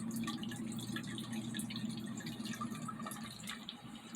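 Water dripping and trickling inside an evaporative air cooler, a steady patter of small drops close by, fairly faint over a low constant hum.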